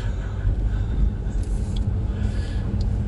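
A fairly wide car drives along a road, heard from inside as a continuous low rumbling engine and road drone, with a few faint brief sounds above it and no speech.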